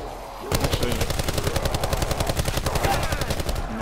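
Rapid automatic rifle fire in a video game bursts in after a brief lull, a loud, fast, evenly spaced stream of shots continuing without pause.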